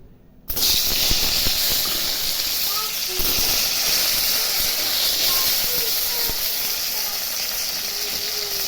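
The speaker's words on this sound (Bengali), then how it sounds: "তো এখন আমি আগে পটলটা ভেজে নেব।" Pointed gourd hits hot oil about half a second in and bursts into a loud, sharp hiss that settles into steady close frying, with a few faint clinks.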